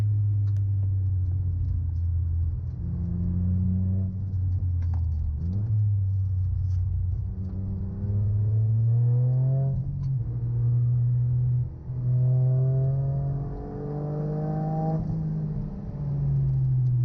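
Toyota GR Yaris lapping the Anglesey race track on a slippery surface, its engine droning steadily from inside the cabin with repeated rises and falls in pitch as it accelerates through gears and corners.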